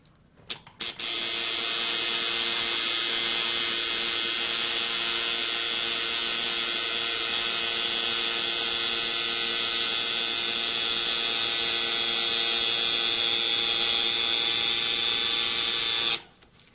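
A tattoo machine buzzes steadily and close while a greywash tattoo is being redone, switching on after a brief start and running at a constant whine for about fifteen seconds before cutting off. No speech.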